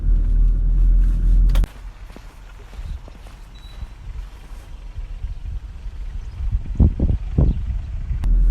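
A 2005 Mitsubishi Shogun Sport in four-wheel drive descends a field off-road, its engine a steady low rumble with bumps and knocks from rough ground. A loud burst of wind or engine noise comes first, and no one speaks.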